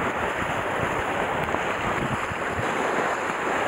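Steady wind blowing across a microphone on the southern Boso coast while fishing, a constant broadband rush and buffeting with surf-like wash underneath, loud and continuous with no talk.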